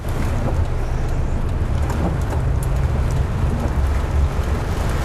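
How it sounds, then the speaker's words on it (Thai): A loud, constant roar of heavy rain and gusting wind fills the whole stretch, with no pauses and no voices. "ฝนตกหนักมากลมแรงด้วย"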